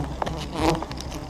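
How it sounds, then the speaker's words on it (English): Wild honey bees buzz close around a camera lens high in a giant tree near their colony, a dense, continuous insect drone with brief louder passes and bumps, no voices. "Sentinel bees are already buzzing around the camera lens, bumping into us to warn us away."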